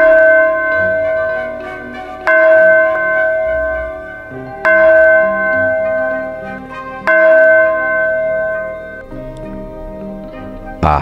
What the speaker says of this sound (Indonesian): Suara lonceng itu terdengar di seluruh lingkungan sekolah